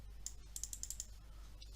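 Faint, quick keystrokes on a computer keyboard, a short run of about half a dozen light taps in an otherwise quiet room with a low steady hum.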